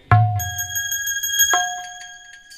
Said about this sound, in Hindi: जैसे ही सिक्का को भगवान पकड़े तो सिक्का डोलने लगे और घंटी बोलने लगी।